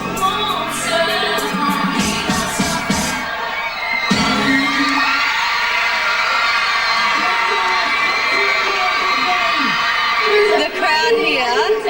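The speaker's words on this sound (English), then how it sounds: "The crowd here is just, the vibe is incredible." Fans packed outside an in-store pop performance on a hot day shout, cheer and whoop continuously, with a dense crowd roar and children's high screams throughout, close and loud.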